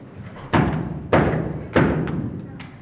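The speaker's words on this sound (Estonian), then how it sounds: "Varsti peale seda koputati uksele" Three heavy knocks on a door, evenly spaced about half a second apart, each a loud close thud with a short ring-out, set in a children's stage play of the wolf and the seven young goats.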